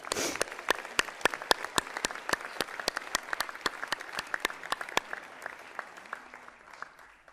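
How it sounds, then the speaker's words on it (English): Audience applause at a college presidential investiture: sparse, distinct claps at first that build to steady clapping through the middle, then thin out toward the end, heard at moderate distance in an indoor hall. "Please join me in a round of applause to show our appreciation."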